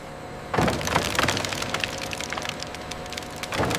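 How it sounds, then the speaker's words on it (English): Empty honeycombs being smashed for beeswax processing in a candle factory, a dense crackling and splintering clatter that starts abruptly, keeps up steadily, then swells again near the end, with no voices. "Now, smashing the empty honeycombs for wax processing."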